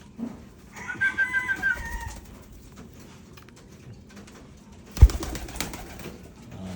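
A racing pigeon released for free flight gives a short cooing call, then a sharp burst of wing claps and flapping, close by against a quiet outdoor background.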